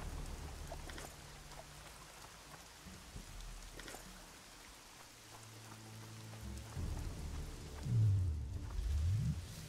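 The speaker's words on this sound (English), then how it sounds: "Oh, and it's raining now." Steady rain pours in the video game The Witcher 2: Assassins of Kings, with thunder rumbling low through the hiss and swelling louder near the end amid faint game music tones.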